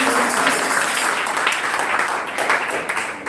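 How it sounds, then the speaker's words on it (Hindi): A church congregation at a Sunday worship fellowship breaks into dense, loud applause that holds steady for several seconds, with a voice faintly beneath the clapping. "एक जोरदार ताली परमेश्वर की।"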